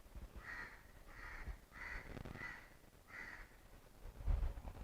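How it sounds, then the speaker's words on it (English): Birds in Singapore's Chinatown on a morning: about five evenly spaced crow-like caws, fairly faint and distant, over quiet ambience, with a dull low thump near the end. "You can hear the birds."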